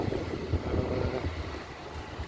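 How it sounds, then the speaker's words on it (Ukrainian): Gusty wind buffets the microphone on a Drachten town square, a steady low rumbling roar with soft swells, no voices. "вибачайте, за вітер тут постійно постійно вітер"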